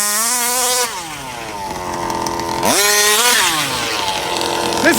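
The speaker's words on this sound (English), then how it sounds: "Listen to those RPMs it's getting." A brand-new Rovan 34cc engine on its first start revs hard and close, its loud buzzing whine swinging up and down in pitch twice through repeated throttle blips.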